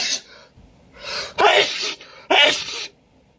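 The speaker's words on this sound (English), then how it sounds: "Your sneeze is so big and messy." A big, messy human sneeze with a gasping build-up followed by two forceful, explosive sneeze bursts, loud and close, with no other voices.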